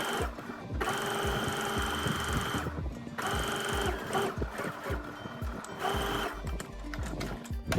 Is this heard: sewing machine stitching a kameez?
yes